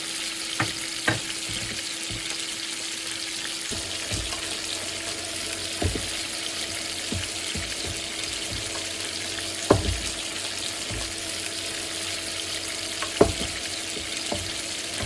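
Scallion braised eggs simmer in a pan with potato starch slurry, a steady, close sizzling hiss broken by occasional soft clicks and taps of a utensil, with no one talking.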